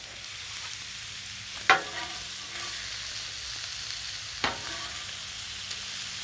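Country style ribs sizzle steadily on a Blackstone griddle outdoors, a constant frying hiss with two sharp scraping or clanking spatula hits standing out over it.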